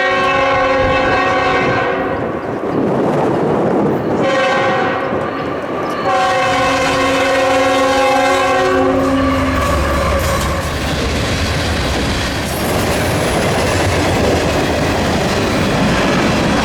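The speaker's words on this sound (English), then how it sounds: "we heard the horn of a CN train coming" CN GE Evolution (Gevo) locomotive sounding several long, loud multi-tone horn blasts up close, then rumbling past with steady wheel and engine noise.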